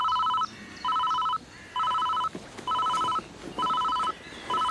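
A telephone rings in repeated electronic bursts, about five evenly spaced double-tone rings separated by short gaps, clear and close with no talking.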